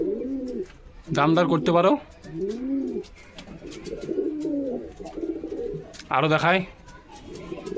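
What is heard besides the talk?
pigeons cooing, green and mushki pigeons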